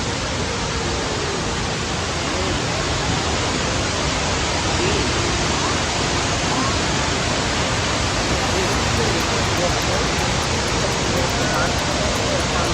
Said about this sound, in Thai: น้ำตกตาดเอลิส